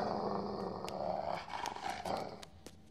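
A dog growls in a low, continuous rumble that swells and fades over a few seconds, close and unaccompanied by speech.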